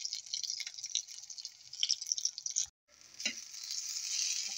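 Garlic fried rice sizzling and being stirred in a pan for a Filipino breakfast, a steady crackling fry with scraping stir sounds, briefly dropping out before the sizzle resumes.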